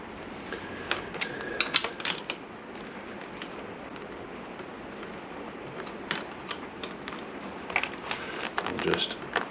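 A 10mm spanner tightens the fitting on a stainless steel braided brake line on a Honda VFR800 VTEC motorcycle, giving faint, sporadic metallic clicks and ratcheting ticks close by, scattered over quiet background.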